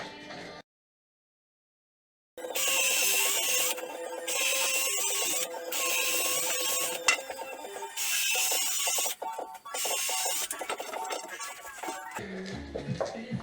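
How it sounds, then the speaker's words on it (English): A drill bores a pilot hole through a wooden sole plate during a basement conversion in an old French house. After a moment of silence come close, loud, whining bursts in a repeated on-off rhythm. "So I put a pilot hole through first."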